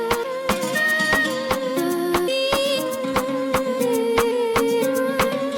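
Sharp rim shot clicks repeating at a steady pulse in a reggaeton breakdown, cracking over sustained synth chords and a melodic line in a dense, loud mix with no voices.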